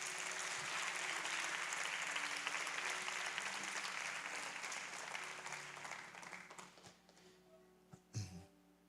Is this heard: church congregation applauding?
yes